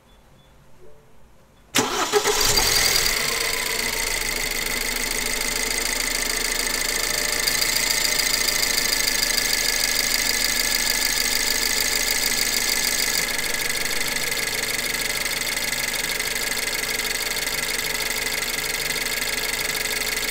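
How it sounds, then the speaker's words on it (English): A BMW 116i E87 with the N43 engine cranks and catches after a quiet moment, then settles into a steady, loud idle that runs on continuously with no talking. "I'll start the engine and then check if we have leaks"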